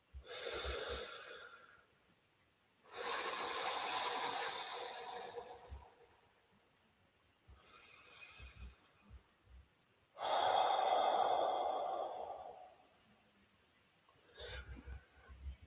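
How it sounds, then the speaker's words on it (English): A person doing breathing exercises to de-stress takes long, loud, deliberate breaths close to the microphone, alternating several-second inhales and exhales separated by pauses, with faint clicks in between. "Just trying to do some breathing exercise right now."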